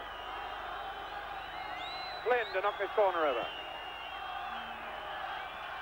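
Football stadium crowd at Yugoslavia v Wales keeps up a steady distant buzz after an early goal, while a commentator talks over it.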